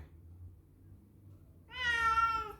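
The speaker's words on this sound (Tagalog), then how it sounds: "Nakakaawa naman ng aking pusa." A house cat gives a single drawn-out meow close by, starting partway through after a stretch of low background hum, with no one speaking.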